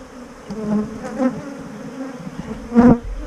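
Honey bees hum and buzz inside a strong nuc hive, a close, steady insect drone with a few louder swells as individual bees fly near.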